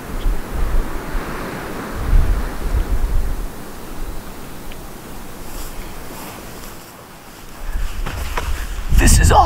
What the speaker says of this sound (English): The wind's picking up quite a bit.